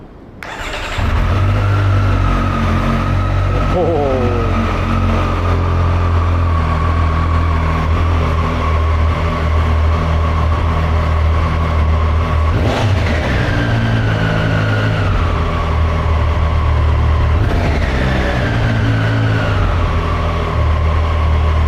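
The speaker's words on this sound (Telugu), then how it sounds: "సో ఇప్పుడు నేను మీకు ఈ బైక్ది ఎగ్జాస్ట్ సౌండ్ అనేది వినిపిస్తాను." A 2023 Triumph Street Triple RS motorcycle engine cranks and fires up, then settles into a loud, steady idle with a deep exhaust note and a couple of brief revs, heard close and alone with no talk.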